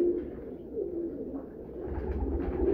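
Bagla Teddy breed pigeons coo softly in low, rolling murmurs, a continuous gentle burble from a close flock with no voices over it.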